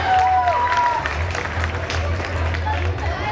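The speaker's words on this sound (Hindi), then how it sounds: "एक बार तालियों के साथ जोरदार स्वागत कीजिए अपना।" Audience applause greeting a performer at a comedy storytelling show, a short burst of clapping and crowd noise under a low hum, with a voice speaking over it.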